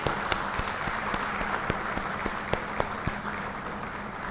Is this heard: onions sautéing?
no